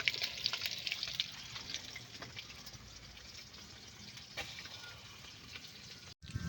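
Fish frying in a pan for a home-cooked lunch, a steady crackling sizzle that runs throughout with faint scattered pops and no talk.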